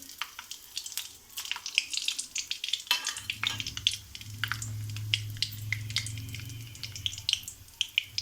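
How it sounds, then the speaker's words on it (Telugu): Whole spices — cinnamon stick, cloves, cumin seeds, bay leaf and star anise — hit hot oil for a paneer curry, giving a crackling, popping sizzle that swells into a steady fry from about three seconds on, close and without any talking. "పట్టా, లవంగం, జీలకర్ర, బిర్యానీ ఆకు, స్టార్ ఇవన్నీ వేసేసుకుందామండి."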